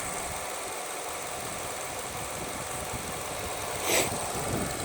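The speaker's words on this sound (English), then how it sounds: "The engine shakes because it's an inline 4." A 2016 Nissan Altima inline-four engine idles steadily with a low, even rumble and slight vibration, heard up close and alone, with a brief brighter burst near the end.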